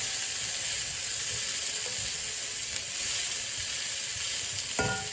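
Green asparagus sizzles and crackles steadily as it roasts in a hot pan, a continuous close frying hiss with faint stirring scrapes and a brief clink near the end.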